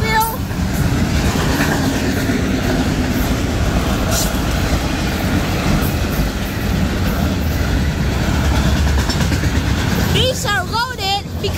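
An FEC freight train hauling auto racks rolls loudly and steadily around a nearby curve, with continuous rumble and clatter of cars and a brief wheel squeal near the end.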